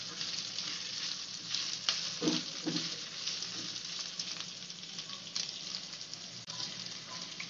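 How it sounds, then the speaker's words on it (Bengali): Onion and capsicum sizzle steadily as they fry in a pan for chilli paneer, with occasional scrapes and stirring knocks from a spatula over a continuous close, bright hiss. "আমরা ওতে অ্যাড করে দেবো অনিয়ন আর ক্যাপসিকামটা। দিয়ে আমরা ভালো করে এটা মিক্স করব।"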